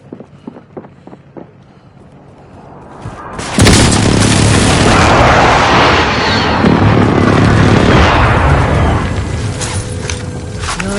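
An artillery fire mission striking a marked target: a heavy boom hits after a few quiet seconds and rolls into a long, loud, rumbling roar that slowly fades.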